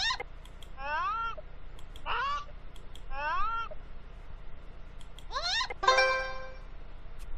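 Cartoon chickens sing in Dora the Explorer Click & Create, a string of short rising, clucking-and-crowing notes in a playful rhythm, clear and close over a faint low hum.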